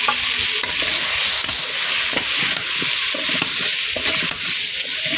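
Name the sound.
pumpkin with turmeric and salt frying in a large wok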